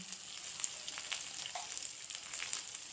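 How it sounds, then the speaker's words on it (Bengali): Chopped onions fry in a pan with garlic and salt, giving a steady, fairly quiet sizzle with faint crackles throughout and no talk. "দিয়ে ভালো করে পেঁয়াজটাকে ভালো করে একটু ভেজে নেব।"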